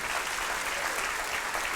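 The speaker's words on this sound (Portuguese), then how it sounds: "Você pode aplaudir ainda mais forte do que isso?" Steady, dense applause from a church congregation during a sermon, loud and continuous throughout with no pauses or voices.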